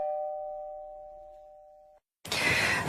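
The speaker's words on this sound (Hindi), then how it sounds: "पर उसी वक्त घर की डोरबेल बज पड़ी।" A house doorbell sounds one sustained electronic chime that rings clearly for about two seconds, then cuts to silence before a burst of loud, broadband noise.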